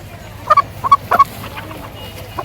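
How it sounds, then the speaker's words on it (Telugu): Chickens at a tribal village market cluck in short paired bursts, a few close calls spaced over a couple of seconds with a quiet background hum between them. "రెండు కోళ్ళు ఉన్నాయి"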